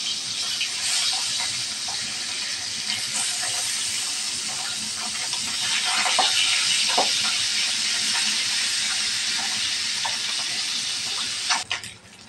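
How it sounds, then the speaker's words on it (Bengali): Pabda fish fries in hot oil in a home kitchen, a loud, steady broadband sizzle and hiss that runs unbroken, with occasional small pops and crackles and a brief clatter near the end. "তেলটা গরম হয়ে গেল, এখন আমি দিয়ে দিব মাছ"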